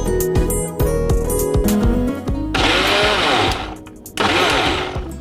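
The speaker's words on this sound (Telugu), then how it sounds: "మిక్సీ పట్టేద్దామా?" An electric mixer grinder whirs loudly up close while grinding soaked rice into a paste, its motor whine running in bursts that stop briefly and restart.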